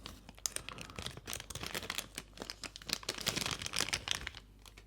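Crinkly plastic wrapping pulled off and removed close up, a dense run of sharp crackles and rustles in quick irregular bursts, with no talking.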